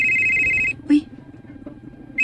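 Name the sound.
phone ringing with an incoming call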